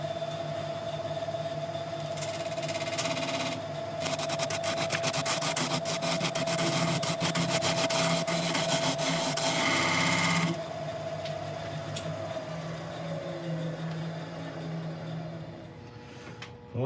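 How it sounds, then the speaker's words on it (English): A half inch round nose scraper cuts into spinning wood on a lathe, a steady rasping scrape over the motor's constant hum, growing louder in the middle and then easing back to the running lathe. "This is just a 1/2 inch round nose scraper, which I'm just going to present to the surface and just take it in."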